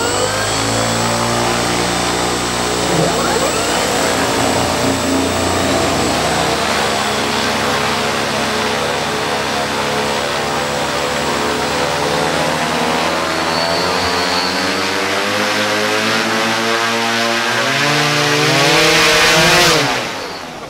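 Large electric motors drive the propellers on a DIY electric ultralight aircraft, giving a loud, steady whirring drone with rising and falling harmonic tones that runs for about twenty seconds and tails off at the end.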